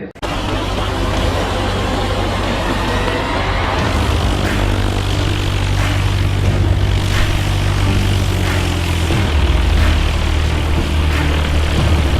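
Propeller airplane engine at an EAA chapter fly-in in Ocala, a loud steady droning roar with strong low hum, close and continuous for the whole stretch with no talking.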